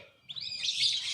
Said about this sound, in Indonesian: ini ada ini guys, ada kenari